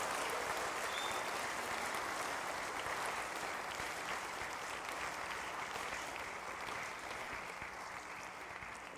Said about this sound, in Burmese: လက်ခုပ်တီးပြီးတော့ဂုဏ်ပြုပေးကြပါဦး